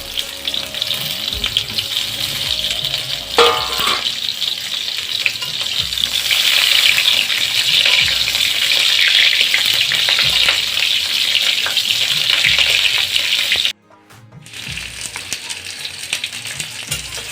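Pointed gourd (potol) pieces sizzle steadily in hot oil, with occasional stirring clatter and a loud, dense crackle throughout, briefly dropping out near the end before resuming.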